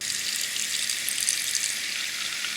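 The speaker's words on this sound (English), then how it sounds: "Then you fill it with water." A heavy pot fills with water from a kitchen tap in a continuous close hissing rush that stops abruptly at the end, with no talk.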